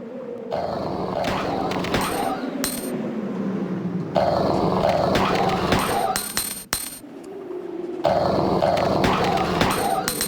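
Low dog-like growls from a video game rise in three separate bursts, loud and close, mixed with clinking game effects and a steady in-game ambience.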